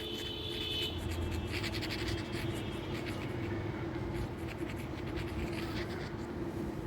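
Chalk or marker scratching on a board during a maths lesson, a continuous faint scratching and tapping of writing strokes heard under a steady room hum, with no speech.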